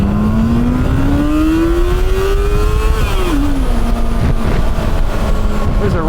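A car engine revs hard toward the red line in first gear, its steady rising whine climbing in pitch for about three seconds. The pitch then drops as the car shifts, and a loud, continuous engine drone carries through to the end.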